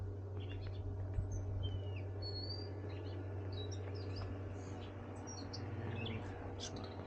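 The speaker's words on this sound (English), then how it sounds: "The whole bird conversation going on right now" Birds chirp and call outdoors in a backyard beside a gunite pool, many scattered short tweets over a steady low hum, moderately faint and continuous, with no talking.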